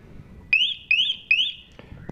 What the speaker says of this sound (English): it'll give you three quick chirps to let you know that it's been armed up.